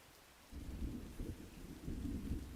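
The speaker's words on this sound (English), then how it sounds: "How about I add in a little bit of thunder?" Low rolling thunder rumbles in over a soft bed of falling rain, building to a deep, sustained roll and then swelling again, a calm storm ambience with no voices.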